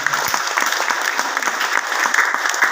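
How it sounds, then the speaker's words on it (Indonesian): An audience at a Jakarta work meeting applauds the teachers with dense, continuous clapping that stays loud and even throughout, with no voices on top. "tepuk tangan buat Bapak Ibu guru sekalian"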